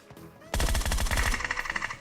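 Rapid automatic gunfire in a video game, a long burst of sharp, loud, evenly spaced shots that starts abruptly after a short quiet pause and then trails off into scattered echoing cracks.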